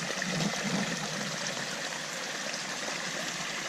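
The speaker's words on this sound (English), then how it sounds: "it's just flowing down here" Water flowing steadily in a small stream along the Appalachian Trail between Port Clinton and Swatara Gap, a continuous close rushing and gurgling with no voices.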